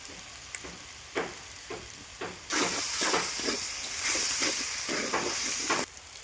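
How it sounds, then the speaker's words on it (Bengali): Kashmiri chilli spice paste with ground coriander and cumin frying in a pan for Bengali chicken kosha: intermittent stirring scrapes give way to a loud, steady sizzle that hisses on for several seconds, then cuts off abruptly. "জল দিয়ে আমি মশলাটা কষে নেব"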